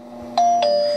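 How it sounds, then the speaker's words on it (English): A two-tone doorbell chime in the Dooors room escape game on iPhone rings twice in quick succession, clear and fairly loud over a steady low electronic hum. "Use the key to open the door and then ring the doorbell."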